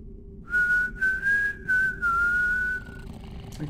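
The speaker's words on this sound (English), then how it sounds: "I can whistle while drinking." A video game character in a Thief fan mission whistles a short, wavering tune of several connected notes over a low background hum, with no talking.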